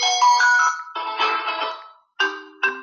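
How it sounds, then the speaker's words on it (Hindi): A Calme CL66 mobile phone plays a synthetic melodic ringtone from its speaker, several short bright bursts of tones in a bouncy pattern, loud and close, with a brief silent gap before the last two phrases. "इस फ़ोन के अंदर रिंगटोन कौन कौन सी हैं वो रिंगटोन चेक करवाते हैं आपको कि इसके अंदर रिंगटोन कैसी हैं।"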